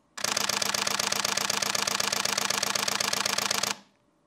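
A Canon 1DX Mark III shutter fires in soft continuous mode, a rapid, even burst of muffled clicks running steadily for about three and a half seconds before stopping abruptly, close and alone.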